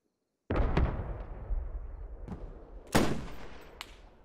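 A Canadian Timberwolf sniper rifle fires in a 100-player Squad match, a sudden loud crack that booms and rolls off, followed by a few fainter distant shots and a second sharp report.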